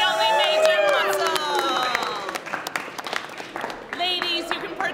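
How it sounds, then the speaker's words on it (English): Theatre audience claps and cheers for a strongman act in a stage production, with high whoops and shouts over the applause, which thins to scattered claps midway before another burst of cheering. "Can we get a round of applause for the one, the only Major Muscle?"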